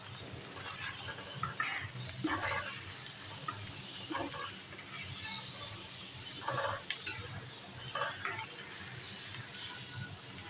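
Chopped ingredients for chicken Afghani karahi are mixed together in repeated soft scraping, stirring strokes, moderately close and fairly quiet over a low steady background hum.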